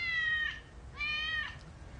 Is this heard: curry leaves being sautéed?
no